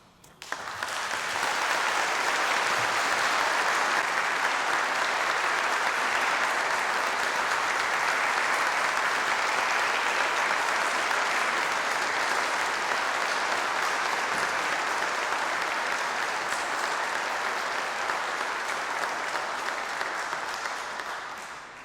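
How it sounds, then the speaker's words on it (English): A church congregation applauds in a large, reverberant space, a broad sustained wash of clapping that holds steady for about twenty seconds before tapering off at the end. "Please clap for yourselves for hanging in there"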